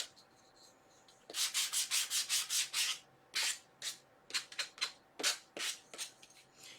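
A sanding block with sandpaper rasps back and forth over paper in quick rhythmic strokes, close and fairly quiet, a steady run followed by shorter, scattered rubs.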